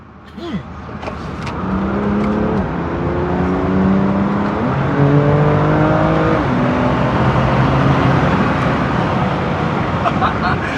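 A BMW M2 Competition engine revs up and down continuously at close range while drifting, with steady tire and road noise throughout.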